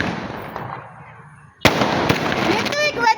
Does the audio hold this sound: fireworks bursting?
yes